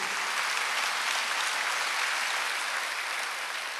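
A church congregation at a Wednesday service breaks into sustained, even applause, a dense wash of clapping heard alone at moderate volume from start to finish.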